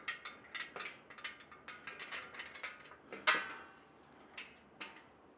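Quiet, rapid ratcheting clicks as bolts are tightened on an embroidery machine stand, a series of short metallic ticks in uneven bursts with one sharper click partway through.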